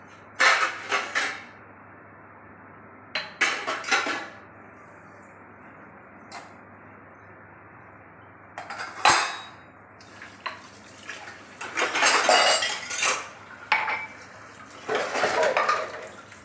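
Utensils and dishes are handled and set away in a home kitchen after making yogurt lassi: scattered clinks, clatters and knocks in irregular bursts with quiet gaps between, fairly close, with no speech.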